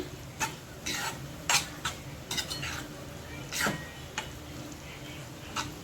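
Methi curry with a ground peanut and sesame paste stirred in a pan, a low sizzle beneath intermittent scraping strokes and clinks of the spoon, quiet and close.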